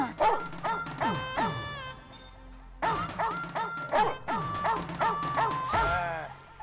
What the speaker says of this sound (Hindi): अरे ये तो वही कुत्ता है।